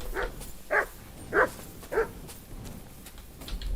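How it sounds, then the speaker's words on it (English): Three sharp dog barks ring out in the Kingdom Come: Deliverance II video game, spaced evenly about half a second apart at moderate distance over a low ambient hum. "there's dogs barking."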